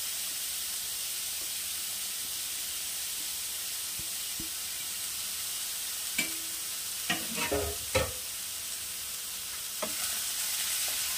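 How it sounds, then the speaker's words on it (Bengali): Beetroot and grated carrot frying in a pan, a steady soft sizzle under quiet background hiss with a few sharp scraping stirs clustered in the second half. "এই দুটো খুব ভালো করে একটু ভাজা ভাজা করব"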